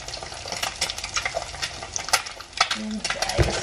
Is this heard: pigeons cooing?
no